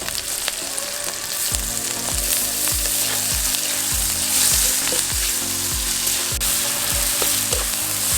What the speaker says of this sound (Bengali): সমস্তগুলোকে খুব ভালোভাবে নেড়ে নিয়েছি। টমেটোগুলো বেশ ভালোই নরম হয়ে গেছে।